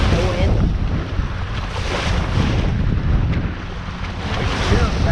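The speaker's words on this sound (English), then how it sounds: "The wind." Strong wind blows over open water near a waterspout, heard as a loud, continuous rushing roar with buffeting on the microphone and surging waves.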